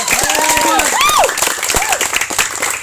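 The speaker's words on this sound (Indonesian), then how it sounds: "Tepuk tangan." A group gathered at a lakeside outing gives a short burst of clapping. Lively chatter and a voice rise over it throughout the few seconds.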